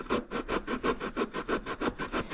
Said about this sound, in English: I don't use a file, I use a rasp, a fine rasp, because I want to remove material.